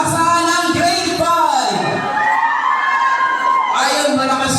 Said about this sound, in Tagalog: Ayun, malakas yung sigaw.